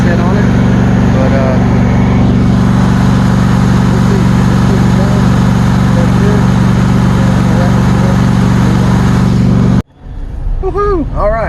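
A Quiktrak mower engine idles loudly and steadily up close, a constant low drone with a hum, then cuts off sharply near the end, leaving a brief burst of other noise.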